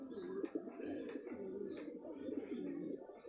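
Pigeons of the Makhwe breed cooing steadily at close range, low rolling coos repeating through the whole stretch with a few faint chirps above.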